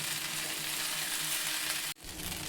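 Semiya upma in a frying pan, sizzling steadily and close while it is stirred slowly, with a brief pause near the end before the sizzle resumes.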